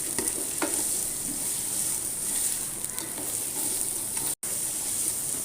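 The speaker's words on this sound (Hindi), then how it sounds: "और अच्छे से मिक्स कर लूंगी" A spoon stirs a tablespoon of sugar into food frying in a pan for Afghan Kabuli pulao, with a continuous close sizzle and light scraping, broken by a momentary dropout.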